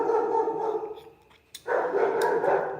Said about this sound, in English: That dog. That dog.